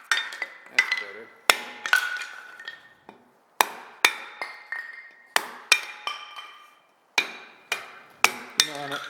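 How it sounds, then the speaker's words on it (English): A soft-faced hammer strikes repeatedly in a workshop, a dozen or so sharp, close knocks in uneven bursts with brief ringing decay and pauses between groups. "I'm using a soft-faced hammer here"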